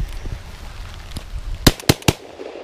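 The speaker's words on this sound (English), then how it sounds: "3 rounds of the shotgun, done." A shotgun fires its last three rounds outdoors: three sharp, loud blasts spaced about a quarter second apart, following quieter background rumble and faint clatter.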